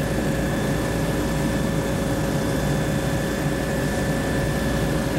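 Steady, loud engine and propeller drone fills the cabin of a survey aircraft cruising along a lake shoreline, a constant low roar with faint tonal hum and no pauses.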